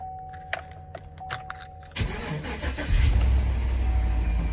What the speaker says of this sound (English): put the vehicle in park, get it to start.